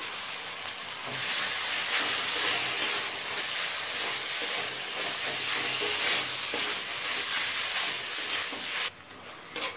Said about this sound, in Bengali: চিকেনটা হাই ফ্লেমে মিনিট 2-3 কষিয়ে নিয়েছি।